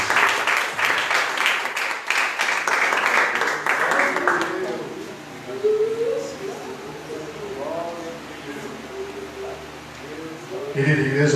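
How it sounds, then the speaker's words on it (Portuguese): Church congregation at a revival conference claps in dense broadband applause for about four seconds, then it fades into a hall murmur with a voice speaking over it. "Uma linda salva de palmas para o Senhor,"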